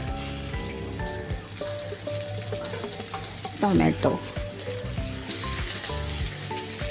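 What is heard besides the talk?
onion and chili frying in a little oil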